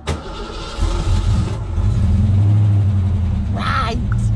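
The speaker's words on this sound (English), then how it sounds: "just starting up the old car." An old Ford Mustang engine starts and runs, a loud, steady low rumble that holds for several seconds, with a brief higher rev burst near the end and voices in the background.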